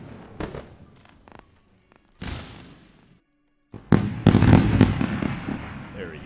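Fireworks sound effects play on a trading platform after an order fills: scattered sharp pops and crackles, then a dense burst of crackling bangs near the end, with a voice talking in between.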